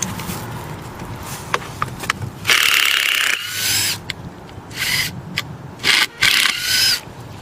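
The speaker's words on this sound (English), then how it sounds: "So the screws are coming out just fine." Screws being backed out of panels while the panels are stripped off: intermittent scraping, rasping bursts of varying length with short gaps between, close to the microphone, without talk.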